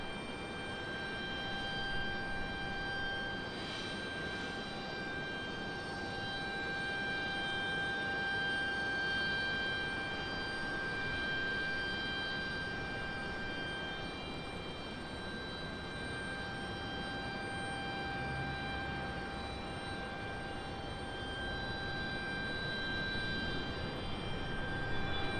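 A jet airliner arriving at Raleigh-Durham International Airport, its engines producing a steady, fairly loud roar with a sustained high whine that holds for the whole stretch, no voices heard.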